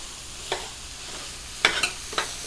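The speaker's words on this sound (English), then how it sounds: "here I have the ground beef. So I gotta saute all that." Ground beef sautéing in a pan for pastitsio, a steady quiet sizzle with a few sharp scraping stirs of the spoon, close up and with no talking.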